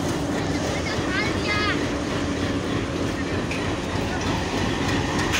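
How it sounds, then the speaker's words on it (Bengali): Titumir Express train pulling out of Saidpur station, a continuous loud rumble of rolling wagons with a brief horn-like tone early on, close by, with people talking over it. "ডাউন তিতুমির বর্তমানে ট্রেনটি আউট করে দিল সৈয়দপুর"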